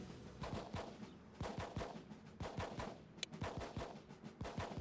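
Gunfire from Alpha team in the video game Full Spectrum Warrior comes as rapid automatic bursts, several fast strings of shots broken by short pauses, with a sharp click near the end.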